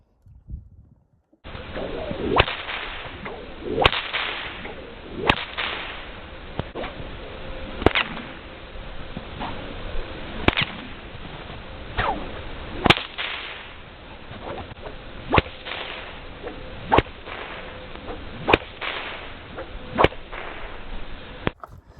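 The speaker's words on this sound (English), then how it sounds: "these whips, they'd make a very loud noise, kind of similar to a gunshot" Sharp, gunshot-like whip cracks ring out one after another at a steady pace, roughly every second or two, loud and close over a constant background hiss.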